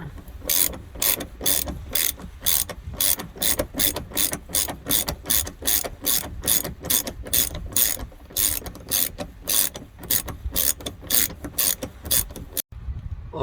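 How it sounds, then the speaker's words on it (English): A ratchet fitted with a 21mm socket turns out a seat belt bolt inside a Dodge Grand Caravan, a close, loud run of rapid clicking strokes in a steady rhythm that stops briefly near the end. "Now I'll be using 21mm socket to remove this one."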